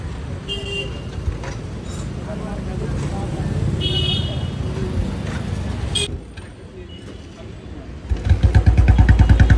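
A motorcycle on a roadside in India is kicked and then revved, its engine rising into a loud, rapid throbbing near the end after a stretch of traffic noise, horn toots and people talking.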